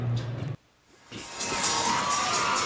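Crowd cheering and shouting in Keeter Gymnasium at an NAIA Division II men's basketball national championship game, a burst of noise that drops out briefly, then swells into a sustained, bright roar.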